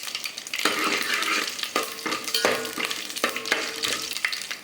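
Dried red chillies sizzle in hot oil over a medium flame as rasam tempering begins, a loud steady crackle broken by sharp spatula scrapes and stirring knocks against the pan.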